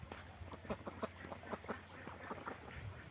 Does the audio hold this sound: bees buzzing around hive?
no